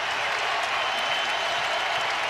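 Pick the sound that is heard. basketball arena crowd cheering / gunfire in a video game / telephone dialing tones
basketball arena crowd cheering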